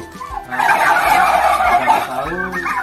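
A five-month-old turkey gobbles loudly nearby in a raised pen, a rapid rattling burst lasting a couple of seconds amid low background noise.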